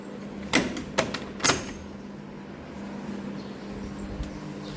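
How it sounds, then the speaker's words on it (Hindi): A home door being opened gives three sharp clicks and knocks in quick succession from the latch and frame, then a quiet room hum with one faint bump, no talk. "अब मैं जा रही हूँ ये दरवाज़ा खोलने"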